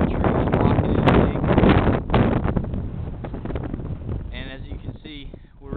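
Strong wind buffets the microphone at a bald mountain summit, a loud continuous roar and rumble with gusts that swell and ease throughout, and a voice speaks briefly near the end.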